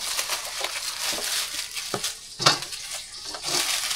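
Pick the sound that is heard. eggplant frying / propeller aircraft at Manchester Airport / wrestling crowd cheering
eggplant frying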